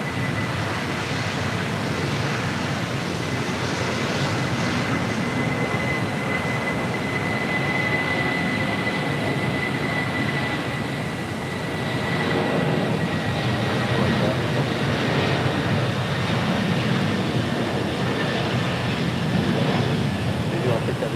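Jet airliners at LAX rolling down runway 25 right for takeoff, a broad steady roar with a faint high whine, sustained and fairly distant, with radio chatter mixed in.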